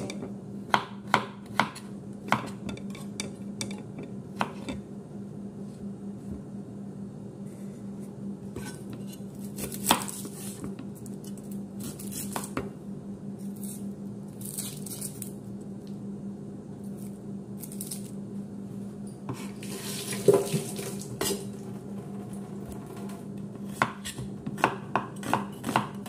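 Carrots chopped with a knife on a board in sharp, irregular taps, close but quiet over a low steady hum, no talking.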